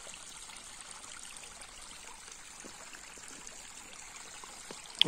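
A mountain stream flows beside a hunting trail, a soft, even rush of water heard from a short distance, with a brief knock near the end.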